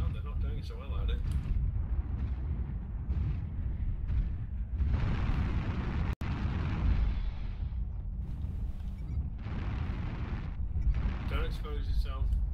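Long-range missile volleys from LRM launchers in the MechWarrior Online video game, heard as a steady, dense rumble of explosions with sharper bursts swelling and fading, mixed with voices talking throughout.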